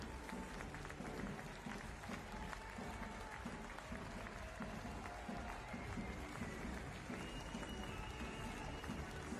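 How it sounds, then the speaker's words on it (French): A few handball supporters applauding in a sports hall after a Lidl Starligue match between Créteil and Limoges, sustained faint clapping that echoes through a large space, under a low murmur. "Applaudi évidemment par les quelques supporters présents au Palais des Sports."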